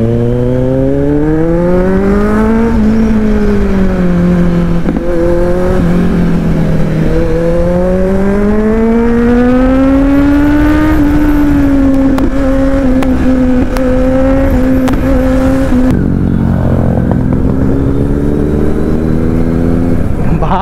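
A group of motorbikes, including a Kawasaki Z900, leans through a bend together. Their loud, close engine drone rises and falls in pitch throughout and briefly eases near the end, with no talk over it.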